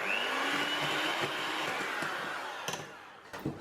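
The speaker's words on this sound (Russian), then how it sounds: "Когда взбили масло с сахаром, добавляем сюда желтки. И тоже хорошо взбиваем." A close electric mixer whirs steadily as it beats butter, sugar and egg yolks, its motor pitch rising as it spins up, with the whisks knocking against the bowl near the end.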